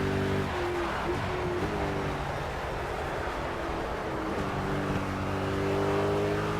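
An Aston Martin engine in Project CARS drones steadily with harmonic tones that rise and fall through gear changes, loud and continuous with no talking over it.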